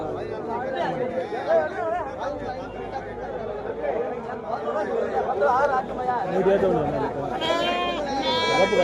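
Young goats bleat repeatedly amid a busy crowd of people chattering at a goat market, the high wavering cries rising louder toward the end.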